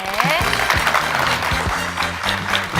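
An audience at a university lecture applauds as the speaker returns to his seat, a moderate crowd clapping heard beneath a clear voice talking over it.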